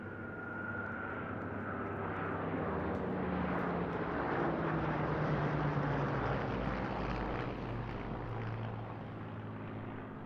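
A Hawker Hurricane propeller aircraft, built in 1944, flies past at an airshow, a steady distant engine drone swelling and fading over about ten seconds with no talk.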